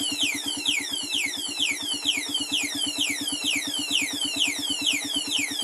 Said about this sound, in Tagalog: mayroon pa tayong marinig nito na lagitik kapag unang andar niya